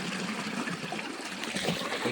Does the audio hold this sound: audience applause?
no